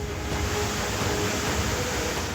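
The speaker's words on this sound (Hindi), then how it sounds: "तेज हवाओं के साथ जबरदस्त बारिश हो रही है" Steady, dense roar of heavy monsoon rain and gusting wind in Guna, Madhya Pradesh, broadband and constant throughout, with no voices.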